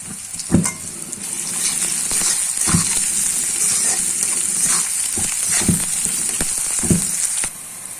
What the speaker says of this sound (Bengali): পেঁয়াজ আর শুকনো মরিচ ভাজা ভাজা করে নিব।